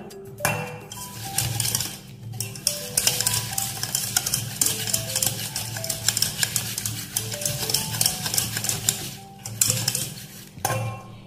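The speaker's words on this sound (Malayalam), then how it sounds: "ആദ്യം ബബിൾസ് ഒന്നും ഉണ്ടാകാതെ അതിൽ ഓയിലിൽ ജാഗിരി നന്നായി മിക്സ് ചെയ്യുക." A spoon stirs jaggery into oil in a bowl for a simple healthy cake batter, giving steady scraping and light clinks against the bowl for about eleven seconds over soft background music.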